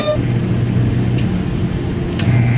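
A tire balancing machine spins a wheel, giving a steady close mechanical whir and hum that holds at an even level throughout, with a couple of faint clicks.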